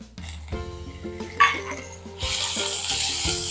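Finely chopped onion drops into hot oil with cumin and curry leaves in a pan for an ash gourd bhaji, starting a loud, steady hissing sizzle after a few metallic clinks of a spoon against the pan.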